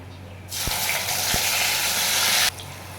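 Ground bottle gourd leaf paste going into hot oil with black cumin in a frying pan, bursting into a loud, steady sizzle that holds for about two seconds before cutting off.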